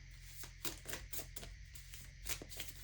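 Soft riffling and slapping of tarot cards being shuffled, several quick bursts spread across the moment, close and fairly quiet over a low hum.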